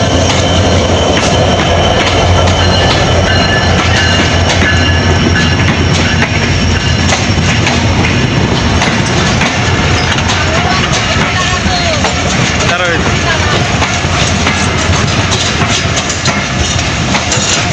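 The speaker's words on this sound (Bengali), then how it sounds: "এই ট্রেন আসতেছে, সরাও।" At the Hili border a train rolls past close by, a loud continuous rumble with rattling wheel clatter and a metallic squeal that fills the whole stretch. Voices can be heard faintly beneath it.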